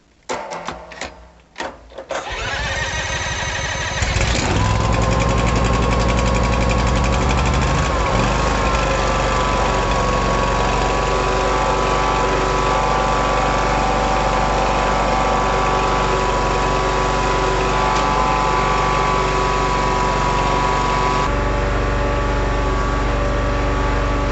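A commercial lawn mower engine is cranked with a large DeWalt cordless drill, stuttering briefly before catching and settling into a loud, steady idle that runs on alone with a constant droning tone.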